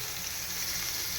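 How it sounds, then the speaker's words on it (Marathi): Small mandeli fish frying in a pan, a dense steady hiss of hot oil sizzling close up with no pauses. "सुरसुरीत आवाज येतो आहे बघा मांदेल्यांचा"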